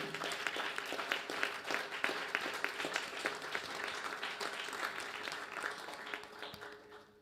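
Steady applause from an audience at a Sunday birthday programme at the Mill Hill Sai Centre, dense clapping filling the room for several seconds and easing slightly toward the end.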